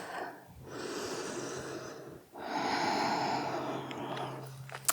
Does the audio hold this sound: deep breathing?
yes